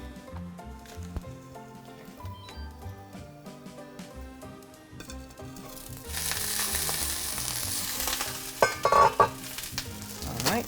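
An egg drops into very hot grapeseed oil and bursts into a loud, crackling sizzle partway through, following quieter kitchen clatter, then spits and pops up close.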